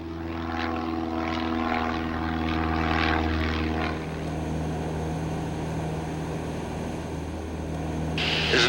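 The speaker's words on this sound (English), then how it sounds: "Clear for takeoff on runway 16 right" A Piper Cherokee light aircraft engine during takeoff at a towered airport, a steady droning propeller hum with a constant low tone, close and loud inside the cabin, with no talk over it.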